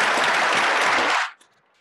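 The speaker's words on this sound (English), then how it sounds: "So give them all a round of applause, please." Audience at an evening panel with Denver mayors gives a loud, dense round of applause that cuts off abruptly, leaving a near-silent room with a few faint stray sounds.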